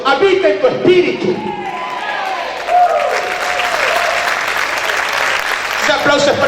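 A church congregation applauds during a sermon, steady clapping and crowd noise under a speaking voice that rises and falls over it.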